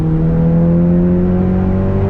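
A 2015 Civic Si car engine drones loudly and steadily, its pitch climbing slowly as it pulls hard under full throttle.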